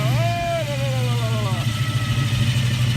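A Chevy Chevelle SS engine idles steadily with a deep, rumbling tone and a faint rising whine early on, close and loud.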